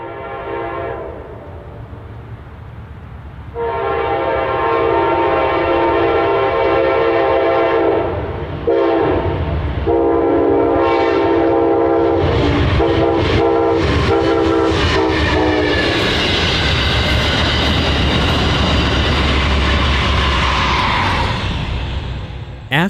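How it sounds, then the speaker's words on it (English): Amtrak westbound Wolverine train 353, hauled by a P42 locomotive, passes beneath an old New York Central steam-era coaling tower in Michigan City, blowing a loud, sustained multi-tone horn before the close, roaring rumble and clatter of the cars rolling by. "we caught westbound Wolverine number 353 under the former New York Central era steam locomotive coaling tower"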